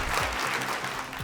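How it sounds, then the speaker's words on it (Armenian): Audience applause at an Armenian talent-show quarter-final, dense steady clapping from a crowd filling the room without pause. "Բրավո, եկեք բոլորս բարձր ծափահարենք։"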